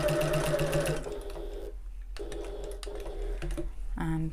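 A sewing machine back stitches in quick whirring bursts, stopping briefly and starting again close by, with a short buzzy run at the end.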